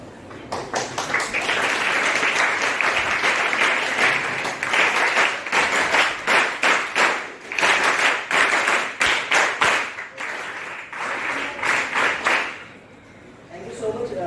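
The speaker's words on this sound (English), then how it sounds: "It has been a long time listening to this clap." An audience at a college career-guidance lecture claps for a guest speaker, a loud, dense burst of applause running for several seconds with uneven swells before fading near the end.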